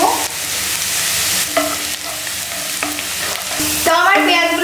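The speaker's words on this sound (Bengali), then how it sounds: "এবার আমি পেঁয়াজগুলো ভালো করে লাল করে ফ্রাই করে নেব" Onions fry in a pan to a loud, continuous sizzle, broken by clinks and scrapes from stirring at intervals.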